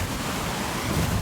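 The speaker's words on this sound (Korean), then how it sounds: "물소리 시원하네." Rushing water of the Hantan River near Jiktan Falls, a steady broadband roar of flowing water in a basalt gorge, close and continuous with no break.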